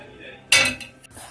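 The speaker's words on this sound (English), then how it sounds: "now I can leave it there and go wash the dishes" Dishes are washed after cooking a vegan borscht: one sharp clatter of pots and cutlery rings out and then fades, followed by a couple of lighter clinks against a quiet background.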